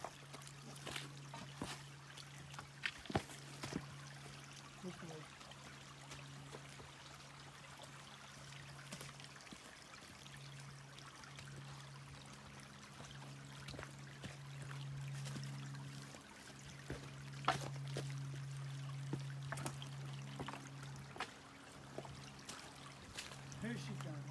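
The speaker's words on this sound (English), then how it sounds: "This is Hester Creek crossing." Hester Creek flowing at a trail crossing in the Santa Cruz redwoods gives a steady, soft trickling rush with a faint low hum and occasional light knocks throughout.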